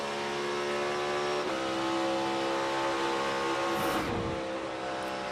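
A NASCAR Cup Series car at a 2023 qualifying session accelerates on throttle, its engine a loud sustained roar with layered harmonics, a brief rise in pitch and a sweeping pass near the end.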